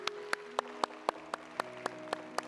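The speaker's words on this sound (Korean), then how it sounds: "저희가 뜨거운 박수로 환영의 박수 올려드리겠습니다." A church congregation in Vancouver claps to welcome visitors at a Sunday service: around ten slow, evenly spaced claps, fairly quiet, with a soft sustained organ or keyboard tone in the background.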